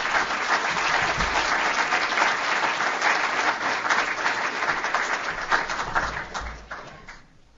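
Sustained, dense applause from a lecture audience welcoming the speaker, steady and full for several seconds before tapering off and fading out near the end.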